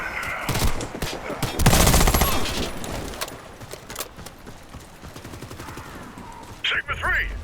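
Rifle gunfire in a video game crackles in rapid, loud bursts of automatic fire, heaviest in a sustained volley near the middle. Speech-like game sounds mix in, and a sharp electronic effect comes near the end.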